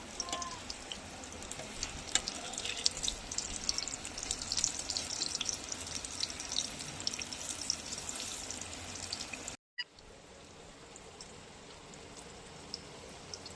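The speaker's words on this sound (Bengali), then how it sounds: "এই দেখুন পটল ভাজছে।" Sliced pointed gourd (potol) sizzles in hot oil in a pan, a steady crackling hiss with scattered pops, briefly cutting out before the frying resumes a little quieter.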